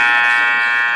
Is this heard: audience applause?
no